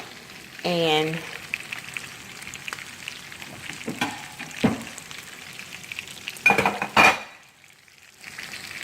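Bacon bits fry in rendered bacon fat in a tilted skillet, with a steady soft sizzle and occasional scraping and clinks, while someone speaks briefly near the start.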